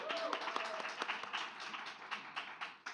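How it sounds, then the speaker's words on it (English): An audience at a public-space design presentation applauds, a faint, steady patter of many hands clapping that tapers slightly toward the end. "Round of applause."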